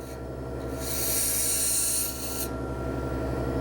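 A wood lathe gouge cuts down a pin blank, making a raspy, scraping cut that swells for about a second and a half over a steady motor hum, then eases back.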